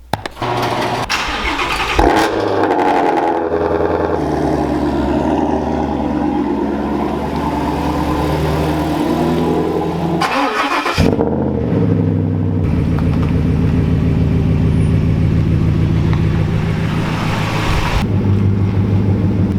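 A Ford Mustang Shelby GT350 starts from cold: the starter cranks and the engine catches with a sharp rev flare, then settles into a loud, rumbling high idle that dips briefly before continuing steadily.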